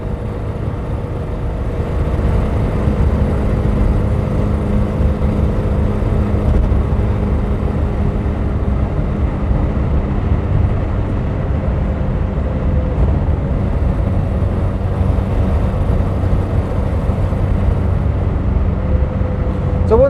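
Small engine of a Reliant Fox car humming steadily while driving, a continuous loud low drone heard from inside the cabin with little change in pitch throughout.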